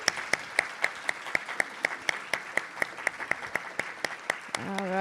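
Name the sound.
audience applause for Serena K. Perales Soto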